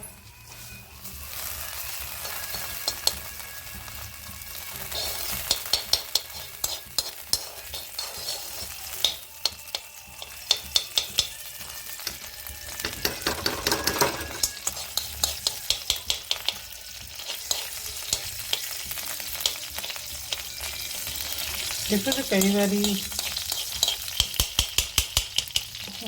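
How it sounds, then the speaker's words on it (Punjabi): Desi ghee tempering for moong dal in an iron deg-style kadhai, a continuous loud sizzle and fry with frequent metallic scraping taps of stirring throughout. "ਦੇਸੀ ਘਿਓ ਦਾ ਤੜਕਾ ਹੀ ਲਾਉਣਾ ਚਾਹੀਦਾ"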